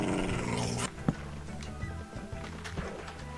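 A hostile wolf-dog mob in Minecraft growls through a steady, fairly quiet game soundscape, with a sharp thump near the start and scattered small clicks and footsteps, and no talk.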